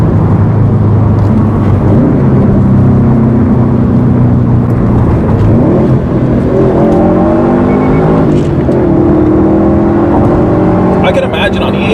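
Car engine droning steadily and loud throughout, with rising and falling engine tones under hard acceleration on a pull, set in a car that could be run on E85, heard from inside.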